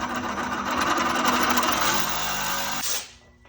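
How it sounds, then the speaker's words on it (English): Reciprocating saw cutting off a clamp on a 2018 Jeep Compass tie rod boot, a close, rapid buzzing chatter for about three seconds that cuts off abruptly. "gonna sawzall that off"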